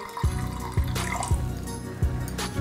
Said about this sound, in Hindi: लगभग डेढ़ कप के करीब हम पानी डालेंगे